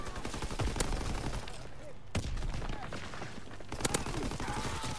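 Gunfire in Call of Duty WWII: bursts of rapid automatic shots and sharp single cracks, loud and close, with a few quieter gaps and talk mixed in.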